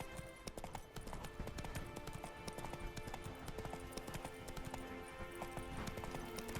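The horse Roach in The Witcher 3 trots along, its hooves clip-clopping in a steady, brisk rhythm that stays close and fairly loud throughout, with no talk over it.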